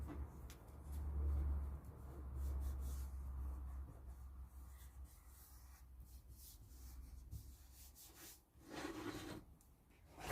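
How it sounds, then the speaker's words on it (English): A Pritt glue stick rubbing glue onto tiny wood scraps for Christmas tree decorations gives soft, close, quiet scraping and rubbing strokes, mostly continuous, with no voices. "Time to just glue these on, just with Pritt stick or something like."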